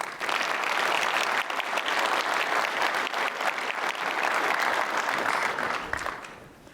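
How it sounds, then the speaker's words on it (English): Sustained applause from an audience at a GDC 2023 tech talk, a steady wash of clapping that tapers off at the end. "I would like a big round of applause for Justin Larrabee, CTO, for a deep dive."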